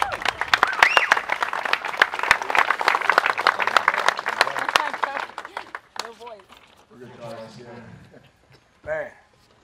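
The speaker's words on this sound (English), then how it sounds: "that's another round of applause for Danny, please" Audience applause for a speaker at a Platoon 22 veterans' speaking event, a dense burst of clapping lasting several seconds before fading, followed by someone talking.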